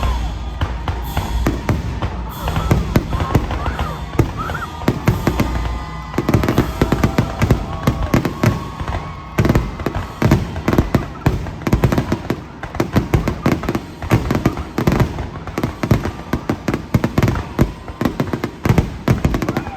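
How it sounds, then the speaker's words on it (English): Fireworks boom and crackle continuously at an amusement park, loud and close, one burst after another with rapid pops layered under the heavier bangs. "it was an awesome fireworks"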